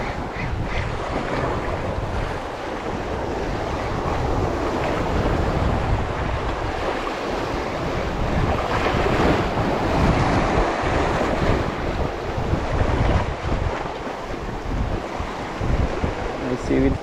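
Sea waves wash and surge continuously, mixed with gusty wind buffeting the microphone, a broad steady roar with no clear voices.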